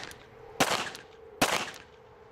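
Handgun fired at a target on a county CCW qualification range, two sharp close reports about a second apart, each with a short ringing decay, no talking.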